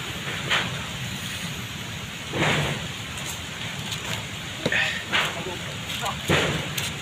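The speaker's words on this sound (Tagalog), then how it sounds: "Lakas ng apoy." A strong fire roars and crackles nearby, with steady hissing and scattered sharp pops and bursts throughout.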